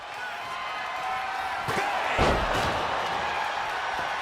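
A wrestling slam lands in the WWE 2K25 game at a Clash at the Castle event, a heavy thud rising over constant arena crowd roar and game commentary.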